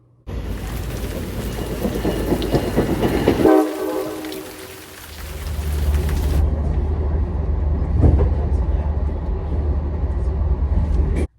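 A train rumbles loudly nearby, with a brief horn-like tone partway through and steady rolling noise continuing to the end.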